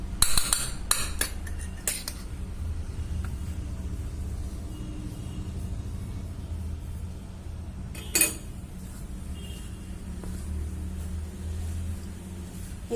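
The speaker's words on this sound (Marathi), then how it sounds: "त्यामुळे चमच्याने हे चांगलं हलवून घ्या" A spoon stirs hot oil through flour in a bowl for Marathi kadakani dough, giving a steady low scraping rumble with a few sharp metallic clinks against the bowl, fairly close and continuous with no talk.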